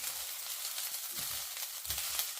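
Garlic fried rice with a little salt sizzles in a pan, a loud, steady frying hiss with a few soft bumps of movement, heard alone over a couple of seconds.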